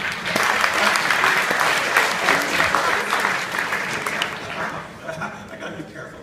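An audience breaks into loud, sustained applause, a dense wash of clapping that slowly thins out toward the end.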